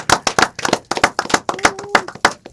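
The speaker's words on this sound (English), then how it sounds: "let's give a round of applause for yourselves this morning" Scattered hand claps from a small group of young people at a live youth talk show, a dozen or so sharp, uneven claps close by, with a brief tonal hum in the middle.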